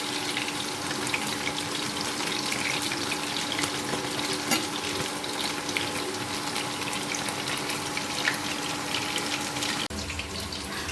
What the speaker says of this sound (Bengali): এই যে ভাজা চলছে আমার চিকেন পকোড়াগুলো